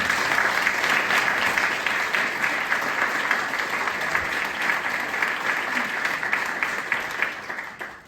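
A room full of people applauds board members being honored at a nonprofit gathering, a dense, steady wash of clapping that holds for about eight seconds and fades slightly at the end.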